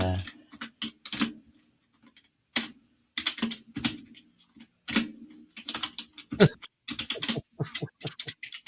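A computer keyboard clacks in quick, uneven bursts of keystrokes separated by brief pauses, close and fairly loud, with occasional sharper knocks among the taps.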